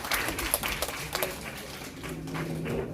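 Children clap together during an elementary Sunday school worship service on the day of a talent festival. The bursts of clapping are strongest at the start and then thin out into a busy room tone.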